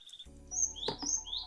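A Javan pied starling songbird chirps in its cage, giving a few short, bright whistled calls over a low steady background hum, fairly close and alone without talk.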